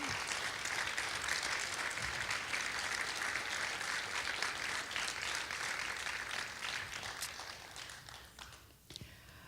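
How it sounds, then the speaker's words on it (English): An audience at a youth human rights awards ceremony applauding, a dense sustained wash of clapping from many hands that holds steady and gradually thins toward the end. "Please help me applaud all of Henry's terrific and inspiring work with our youth."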